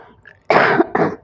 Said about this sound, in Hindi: सॉरी खांसी यार हो रही है मुझे